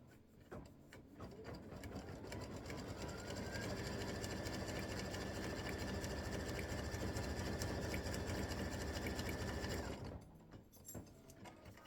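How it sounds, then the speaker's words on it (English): An embroidery machine running a triple-stitch line on a Valentine bear appliqué for a paper towel holder decoration, with a steady, loud mechanical whir and rapid needle chatter lasting about eight seconds before it stops, no talking. "it's going to stitch a line down here, skip, come, go up here, come down, and it is a triple stitch"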